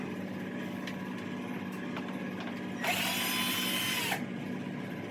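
A power driver spins out a 1/4-inch screw on a Maytag/Whirlpool washer, a short, loud whirring burst of just over a second, set against quiet room tone with a few faint clicks and handling taps before it.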